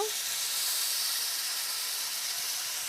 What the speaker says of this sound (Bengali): এখন আমরা অল্প একটু পানি দিয়ে শীতলগুলোকে ভুনো করে নিব